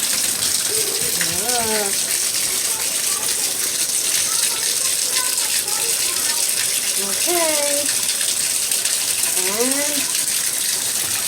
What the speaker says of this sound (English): now let's turn on the water.